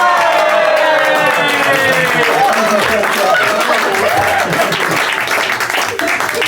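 A theater audience at a live magic show breaks into dense, sustained applause and crowd noise, with a voice carrying over the clapping throughout.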